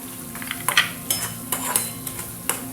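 Red chili powder, turmeric, garam masala and salt are stirred into a pan over low heat, with repeated metal spoon scrapes and clinks against the pan over a soft, steady sizzle.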